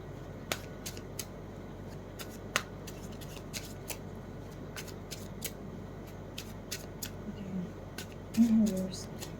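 Tarot cards being shuffled by hand: sparse, sharp card flicks and snaps scattered irregularly over about nine seconds, close but faint, above a low steady background.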